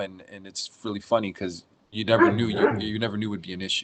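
A pet dog barks and yips between a person's speech, several short sharp barks heard nearby and partly overlapping the talking.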